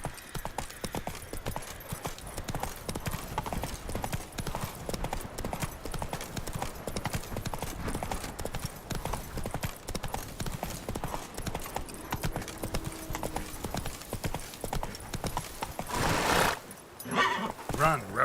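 A horse gallops in The Witcher 3 on PC, its rapid clip-clop hoofbeats steady and close for most of the stretch, with a brief burst of other game noise near the end.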